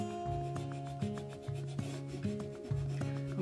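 Wet distressing by hand, rubbing paint off a painted surface, makes a steady close scrubbing sound in repeated strokes roughly every half second, with low tonal squeaks from the rubbing.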